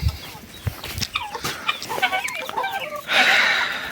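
Hens clucking in a pen while their feeding troughs are cleaned, with several short near clucks and calls in a loose, uneven rhythm and a louder hissing burst near the end.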